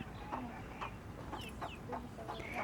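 Soft, irregular clucking from bantam chickens, several short calls scattered over a low, steady background murmur.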